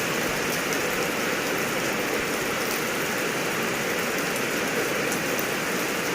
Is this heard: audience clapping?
no